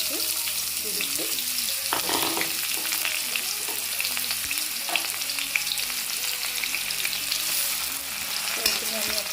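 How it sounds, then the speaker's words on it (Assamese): Large-cut onion frying in oil with cinnamon sticks, cardamom pods and bay leaf for an Assamese jackfruit seed curry, giving a moderate, steady sizzle with stirring and occasional scrapes, with no voices. "তাৰপিছতে এতিয়া ইয়াত ডাঙৰ কাটি থোৱা পিঁয়াজটো দি দিছোঁ"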